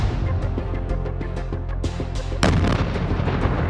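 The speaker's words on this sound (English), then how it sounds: "The the MIC-LIC is propelled across the minefield with a rocket and detonated." A rocket-propelled mine clearing line charge (MICLIC) detonates across a minefield, a sharp explosive burst that jumps loud partway through over a rumbling, booming background of heavy impacts.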